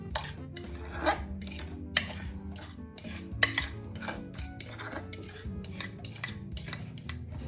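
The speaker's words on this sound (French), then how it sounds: "Je prends les pommes de terre et je les incorpore à la viande dans la poêle." Mashed potatoes being worked into meat in a frying pan for korokke, soft scraping and occasional utensil clinks against the pan, close and fairly quiet, with no talking.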